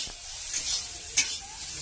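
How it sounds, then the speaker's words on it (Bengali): Straw mushrooms frying in a pan in a home village kitchen, with a steady soft sizzle and light stirring scrapes, plus one sharper clink near the middle. No one speaks. "আমি এই খড়ের ছাতুটা ভাজা করবো"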